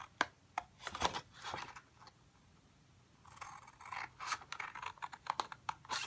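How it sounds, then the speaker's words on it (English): Scissors snip through patterned paper along marked lines while a tall paper box is crafted, producing a series of sharp, close clicks and crisp cuts with quiet gaps between, growing busier in the second half. "I'm going to cut on this side and this line"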